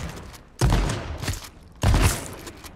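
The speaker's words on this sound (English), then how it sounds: "With a shotgun." Two loud, close shotgun blasts in a video game, each a sharp boom with a short decaying tail, about a second apart.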